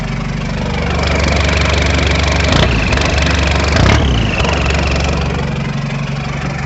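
A John Deere 5095M tractor runs with a straight pipe fitted after its muffler fell off, a loud, close, steady diesel drone with a couple of brief swells in engine note.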